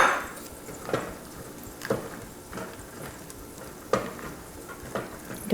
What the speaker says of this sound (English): And add the mushrooms.